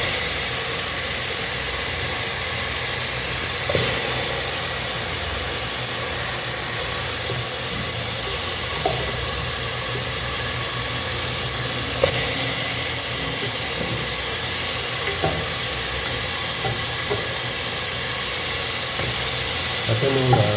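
Masala sizzling in hot oil for Dindigul mutton biryani, a loud steady hiss and crackle with occasional pops, continuous over twenty seconds.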